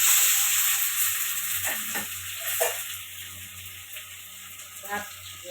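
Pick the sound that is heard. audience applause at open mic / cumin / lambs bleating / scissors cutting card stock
cumin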